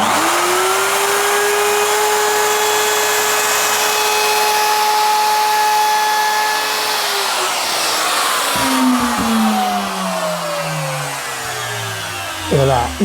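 A wood router fitted with a round-over bit whines at a high steady pitch as it cuts along the edge of a timber board, loud and close, then spins down near the end.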